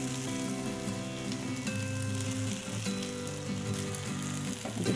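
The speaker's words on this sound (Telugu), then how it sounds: "సో ఇలా కొంచెం ఫ్రై చేసుకొని ఇప్పుడు బాయిల్ చేసుకున్న రైస్ని ఇందులో యాడ్ చేసుకుందాం" Boiled rice dropped into a hot pan of fried coriander masala for coriander rice, giving a steady, loud sizzle and crackle that holds throughout with no voices over it.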